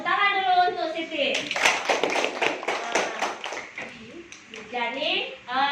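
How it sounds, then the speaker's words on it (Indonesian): Children in a primary school classroom clap their hands together in a burst of rapid, overlapping claps lasting a few seconds, with a teacher's voice speaking before and after. "tepuk tangan dulu untuk Siti."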